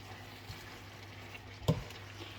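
Green beans with cumin and pepper stirred in a pan over medium heat, a soft low sizzle with gentle scraping and one brief louder clack of a utensil, close and quiet.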